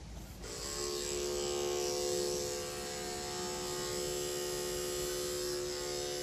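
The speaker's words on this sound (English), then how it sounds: "So this is the wahl 30 blade on a pair of clippers" Wahl electric clippers fitted with a 30 blade switch on and run with a steady, close, high-pitched buzz while trimming a golden retriever's fur, with no talking over it.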